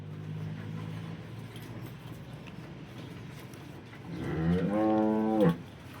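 A single drawn-out cow moo rises near the end on a dairy farm, fairly close, over quiet background rumble.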